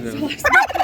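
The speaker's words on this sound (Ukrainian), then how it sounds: "породний індик. Індик дуже великий самець, потужний." A large, powerful purebred male turkey at an animal market lets out one loud, bubbling gobble burst, close by and standing alone without talk.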